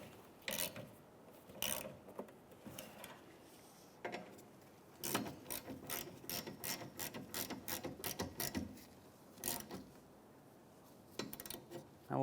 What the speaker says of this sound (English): with the 14mm socket, we'll snug these up